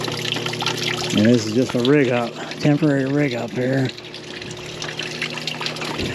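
Rainwater off a whole roof runs through one gutter and trickles into a temporary barrel rig, a steady watery hiss continuing beneath someone talking nearby.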